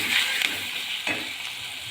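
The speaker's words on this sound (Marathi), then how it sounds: "इकडे तेल छान गरम करायला ठेवलेलं आहे. त्यानंतर हे छान मिक्सी होईपर्यंत परतून घेऊया सगळं." Onion, tomato and curry leaves sautéing in hot oil give a steady, close sizzle, with a few soft stirring scrapes and clinks in the pan.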